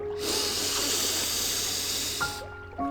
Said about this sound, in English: I want you to start with a deep breath. Inhale